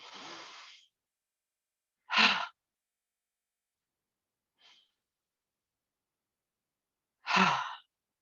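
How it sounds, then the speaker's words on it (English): A person takes a long breath in and then lets it out with a soft, audible 'ha' sigh, repeated with gaps of near silence, close and quiet with no talking. "a long inhalation and then just a ha breath out"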